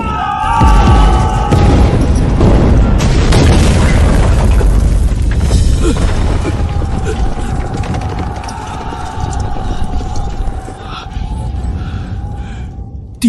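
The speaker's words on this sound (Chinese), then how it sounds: "火药库炸了，连带着把炮阵也炸了！" A gunpowder depot blowing up as a drama sound effect: a loud, close boom that rolls into a long rumbling, crackling aftermath, with a faint ringing tone lingering as it fades.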